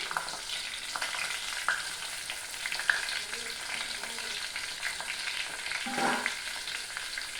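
Whole eggplants frying in hot oil for a Tenali-style oil brinjal fry, giving a steady, close sizzling hiss. It runs without a break for several seconds, with a brief louder bubbling swell near the end.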